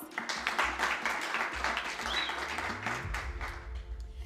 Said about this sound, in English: Can you please give them another round of applause?